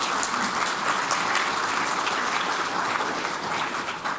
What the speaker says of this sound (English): let's give Dr. Carr a big round of applause